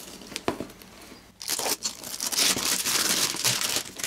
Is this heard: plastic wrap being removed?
yes